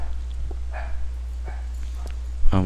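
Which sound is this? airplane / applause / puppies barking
puppies barking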